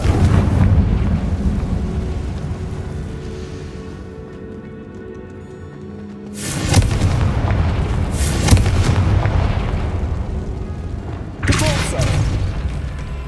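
Confringo blasting spell in Hogwarts Legacy on PS5, several loud booming explosions bursting over a rumbling backdrop, with sharp impacts at irregular intervals.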